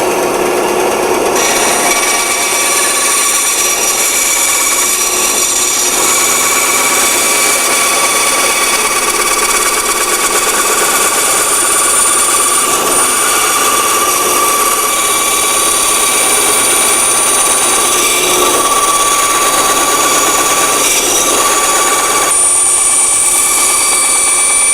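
A bandsaw with a thin kerf blade cuts a wooden nose rib for a Jenny biplane, a steady, loud high-pitched whine and rasp lasting throughout with slight shifts as the cut follows a curve.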